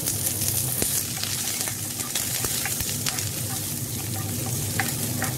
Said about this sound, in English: Saute them on a high flame